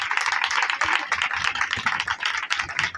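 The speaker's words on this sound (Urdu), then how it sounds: "زوردار تالیاں خدا کے روح" A church congregation clapping loudly in praise of the Holy Spirit, a dense rapid patter of many hands, sustained and close throughout.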